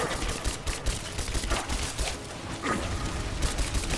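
Gunfire in Rise of the Tomb Raider, Baba Yaga DLC, with a shotgun in play: a steady stream of shots and impacts from close by, fairly dense but not loud, with game sound filling the background.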